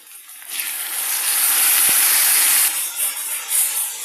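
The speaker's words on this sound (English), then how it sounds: "I'm adding 1 chopped green chilli to the onions and 1 big chopped tomato" Chopped green chilli and a big chopped tomato drop into frying onions for baingan bharta, setting off a loud, steady sizzling hiss that swells, holds for a couple of seconds, then eases into softer crackling.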